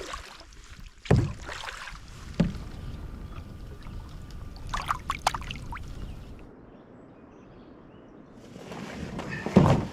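Paddle strokes from a solo canoe crossing a lake in Michigan, with intermittent splashes and knocks against the hull, fairly close, separated by quiet gliding stretches.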